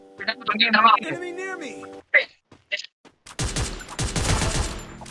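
Free Fire battle gunfire in a tournament match: rapid bursts of shots crackle loudly in the last seconds after the player talks excitedly over sparse game effects.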